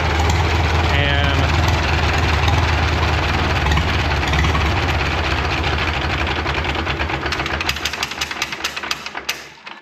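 A 1937 Caterpillar Twenty-Two crawler's engine idles with a steady, loud low rumble and clatter, with voices talking over it, before the running sound tapers and fades near the end as it winds down.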